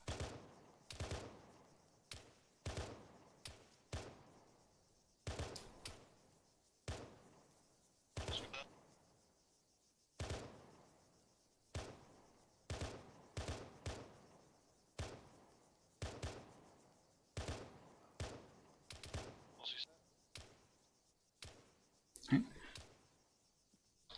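Rapid bursts of video game gunfire in an armoured infantry run-through, with sharp shots spread over the whole stretch and players calling out to each other over the shooting.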